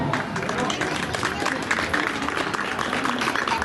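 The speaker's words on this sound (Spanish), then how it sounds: "Regálenle fuerte el aplauso" Outdoor jaripeo crowd in Jalisco clapping steadily, a dense continuous patter blended with murmuring voices and general hubbub throughout.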